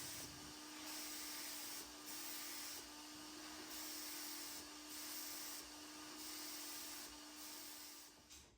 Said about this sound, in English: I'm spraying the cabinet with 3 coats of Total Boat's Halcyon satin varnish.